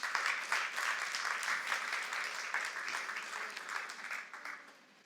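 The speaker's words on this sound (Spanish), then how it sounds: "Denle un aplauso al Señor, claro que sí." Congregation applause during a Spanish-language church worship service, a steady wash of many hands clapping at moderate level that tapers off toward the end, with little talk.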